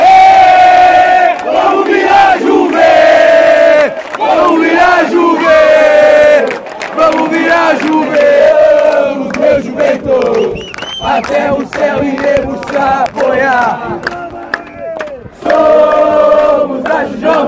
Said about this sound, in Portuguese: Torcida que não para de cantar